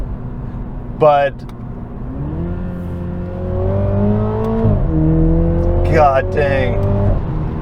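A 2022 Toyota Supra with the 2.0 four-cylinder accelerates up through the gears, engine note rising steadily with a couple of sharp exhaust crackles. Someone speaks briefly over the engine.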